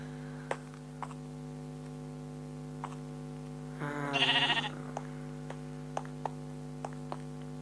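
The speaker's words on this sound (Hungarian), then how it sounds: "Bárányok." A single sheep bleats in the Minecraft game, a short wavering call standing out over a steady hum and sparse clicking ticks, with no talk.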